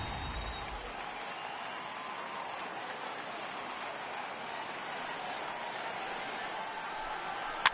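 A dense, steady roar of a stadium crowd of over 39,000 cheering on their feet in the baseball video game MLB The Show 18, sustained broad noise filling the whole stretch with no pauses.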